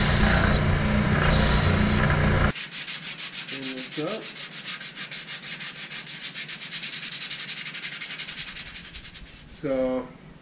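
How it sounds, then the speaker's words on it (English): Sandpaper rubs rhythmically over a wooden fretboard radius block, fast repeated back-and-forth scratching strokes close up, after a louder power-tool whine at the start, with a few brief voice sounds. "I'm just going to round over the top of that there with some sandpaper"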